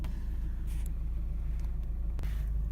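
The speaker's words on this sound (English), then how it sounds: "engine just warming up a little bit more now and ticking over nicely" A 23-year-old Nissan Micra K11, unused for three years, idles while warming up with a steady low rumbling hum and a few faint clicks and ticks over it.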